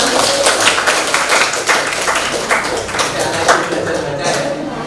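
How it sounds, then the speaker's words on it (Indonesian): Children clapping in a classroom, a broad sustained patter of many hands filling the room, loud and close with a little talk mixed in. "tepuk tangan untuk kita semua"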